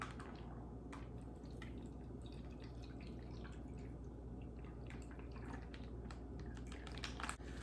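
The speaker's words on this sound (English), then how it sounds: "Let it strain out." Sugar syrup (oleo saccharum) drips through a strainer in a quiet kitchen, giving faint, irregular patters and small plinks over a low steady hum.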